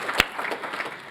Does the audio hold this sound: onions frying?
no